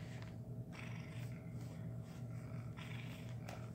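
A domestic cat purrs close by in a steady, low rhythmic rumble with soft breathy cycles, continuing for a few seconds without talk.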